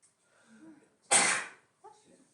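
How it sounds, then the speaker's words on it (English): One sharp, explosive sneeze bursts out close by in an otherwise quiet room, with faint murmuring just before and after. "Everybody's sneezing today."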